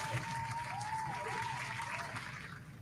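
Applause for a guest on a podcast, a soft, continuous patter of clapping heard faintly and at a distance for about three seconds, with a thin tone wavering over it and no speech.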